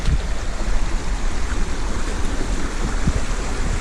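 Jones Run, a creek, flows in a steady, broad rush of water that stays close and continuous without pause.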